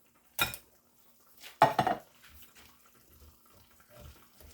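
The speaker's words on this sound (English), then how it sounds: "I'm going to drain the corn now." Canned corn drained over a sink: two short splashing pours of liquid with light metallic clinks from the can or pan, close and fairly quiet, followed by faint scattered drips and knocks.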